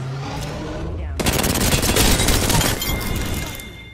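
Gunfire in the video game Apex Legends: a loud, close burst of rapid automatic shots cracks in after a quieter start and rattles for about a second and a half before easing off.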